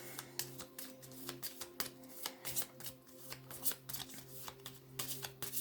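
Oracle cards are shuffled by hand before a card is drawn, giving quick, soft, repeated riffling flicks up close under a faint steady hum.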